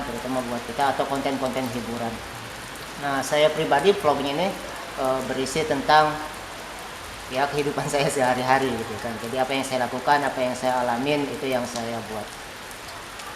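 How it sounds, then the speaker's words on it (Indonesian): Rain falling steadily outdoors, a constant hiss of drops on surfaces running throughout beneath someone speaking continuously close to the microphone. "Ini hujan guys"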